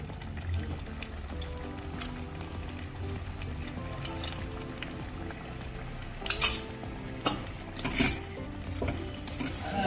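Coconut sheera cooked in ghee stirred in a metal pan, with steady scraping and clinking of a spoon against the pan, close and moderately quiet, plus a few louder knocks toward the end and no voice.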